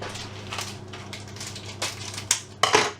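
Hazelnuts being stirred into plain flour in a mixing bowl for a toffee hazelnut cake, giving soft scattered clicks and light patter, a few sharper taps near the end, with a low steady hum behind.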